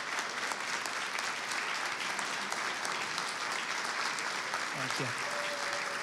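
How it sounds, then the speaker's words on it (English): Steady applause from a lecture audience fills the whole stretch, dense and even, with a brief spoken thanks near the end. "if we could give them a round of applause"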